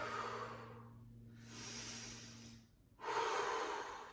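Deep, slow breaths during a yoga pose: an exhale, a long inhale, then a strong, airy exhale, close and fairly quiet.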